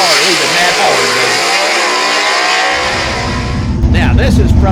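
A heavy 1958 Del Rey gasser drag car launching hard at a vintage drag strip, its loud engine revving and climbing in pitch, then dropping into a deep throbbing roar, with a commentator talking over it.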